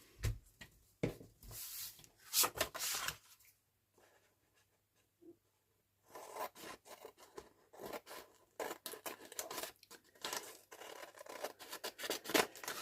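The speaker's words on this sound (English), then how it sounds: "Just going to trim around that with my scissors" Scissors snip and rustle through paper in bursts of close, crisp cutting, pausing for a few quiet seconds before resuming more briskly.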